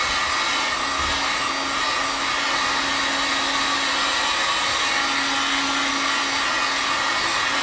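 A heat gun blows steadily on a resin finish for an American flag project, a continuous close whooshing hiss with a faint hum, unbroken and alone with no talk.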